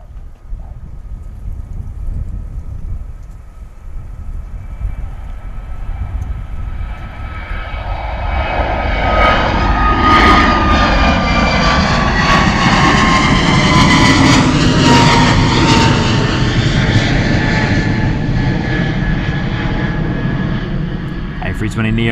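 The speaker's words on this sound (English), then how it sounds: "A320 Neo, of course, heading out to Tenerife" An Airbus A320neo jet departs Bristol Airport bound for Tenerife, its engine roar building from a low rumble into a loud, sustained whine with rising and falling tones, with wind noise on the microphone.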